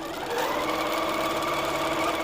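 A sewing machine runs steadily, stitching quilt rows on a scrap checkerboard game, with a continuous close whirring drone that holds without pause and no talk.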